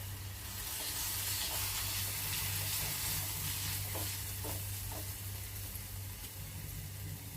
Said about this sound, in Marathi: एक मिनिटभर आपण परतून घ्यायचे मसाले कोथिंबीर पण होते